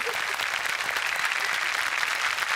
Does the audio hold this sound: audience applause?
yes